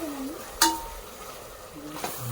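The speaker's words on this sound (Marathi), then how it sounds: "याला थोडासा परतून घ्यायचं म्हणजे याचा कच्चा पण आहे ना निघून जाईल गरम मसाल्याचा अद्रक लसूणचा" Garam masala with ginger and garlic is sautéed in a pot for chicken pulao, a low sizzle under a few sharp spoon clinks and scrapes against the metal, with no voices.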